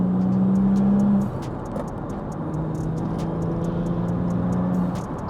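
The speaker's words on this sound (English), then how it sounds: "I actually like the intake sound and the exhaust sound all combined." Audi RS4 B5 wagon driving, its engine intake and exhaust droning steadily from inside the car, with a shift in pitch early on and a continuous road rumble beneath.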